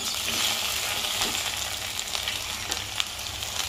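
Chopped tomatoes frying in hot oil in a pan for Karnataka-style bendekai gojju, giving a steady, close, hissing sizzle with faint stirring clicks and no voices.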